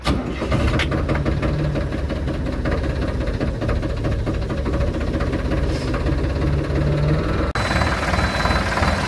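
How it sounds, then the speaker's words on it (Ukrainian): A Solis 50 RX tractor's diesel engine turns over and catches, then runs steadily with a loud, knocking idle throughout, close by. "Ось так працює мотор на Solus 50 RX"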